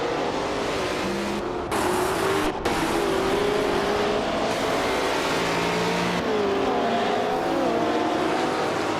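Race cars in a racing video game drive in a steady, loud engine drone, with pitch rising and falling as the cars accelerate, and no voices.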